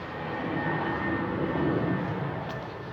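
An airplane flies overhead during a street walk after rain, heard as a steady broadband engine drone that swells slightly in the middle and then holds, with no voices over it.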